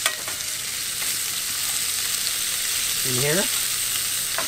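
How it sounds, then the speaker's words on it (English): Bacon and potatoes fry in a skillet with a steady, close broadband sizzle throughout, joined by a brief scraping stir near the end. "we're going to get these all browned up"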